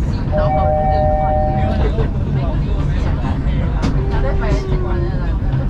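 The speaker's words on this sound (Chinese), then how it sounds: "Train is passing through a bank." A small sightseeing forest train in Jeju rumbles along steadily with a couple of sustained horn tones, while a voice speaks over the continuous running noise.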